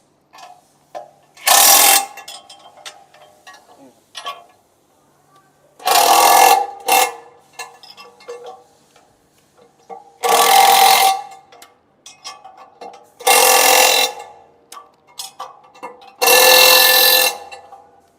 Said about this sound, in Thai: หลังจากนั้นขันให้แน่นด้วยบล็อกอีกครั้งหนึ่ง